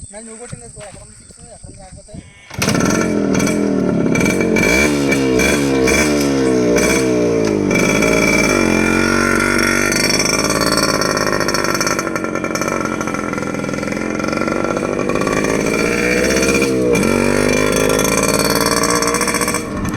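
Yamaha RX 100 motorcycle engine running loud and steady for most of the ride after a quieter start, with a throaty two-stroke tone and a few revving swells.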